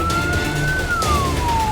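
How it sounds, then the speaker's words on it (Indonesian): A fire truck from a wildfire task force in Kotim Regency, Indonesia, wails its siren as it heads to a fire. The pitch rises and falls in a steady sweep over loud traffic rumble. "Raungan sirine mobil pemadam kebakaran dari tim Posko Gabungan Karhutla Kabupaten Kotim"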